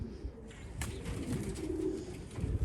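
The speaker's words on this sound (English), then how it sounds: "There's a whole bunch of mourning doves and everything." Mourning doves cooing outdoors near a pigeon loft, soft low repeated coos that run steadily through the moment, moderately close with light background noise.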